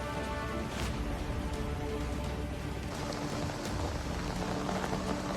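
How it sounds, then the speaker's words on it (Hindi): Heavy rain pours during flooding in Abha, Saudi Arabia, a steady dense hiss of falling water and splashing on surfaces that stays loud and even throughout, with no voices. "यहां इतनी बारिश हुई कि सीवर सिस्टम फेल हो गया और पानी सड़कों पर आ गया।"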